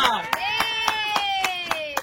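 Rhythmic clapping at a bottle colour challenge game, about seven evenly spaced sharp claps over two seconds, layered under a sustained voice or tone.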